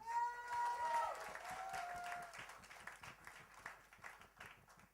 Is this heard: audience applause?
yes